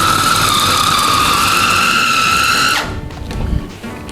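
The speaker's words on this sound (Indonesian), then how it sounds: "Pastikan kita chop sampai dagingnya benar-benar halus dan benar-benar kalis." A food chopper grinds beef for Singkawang meatballs with a loud, high motor whine that holds steady for nearly three seconds, then cuts off abruptly, leaving clatter and a brief rattle.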